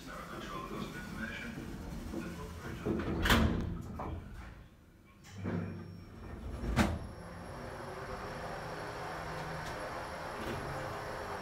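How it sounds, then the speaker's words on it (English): Original Kone Monospace lift doors at Gateshead slide shut with a couple of distinct thuds and clunks over a steady hum inside the elevator car, fairly close and moderately loud. "Doors closing."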